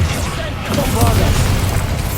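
A booming blast from the Bombarda explosion spell in Hogwarts Legacy, a heavy low rumble that swells and lingers, with voices partly over it.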